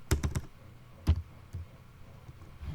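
Keys clacking on a computer keyboard while code is typed: a quick burst of three close taps, then scattered single strokes, crisp and near, with no voices.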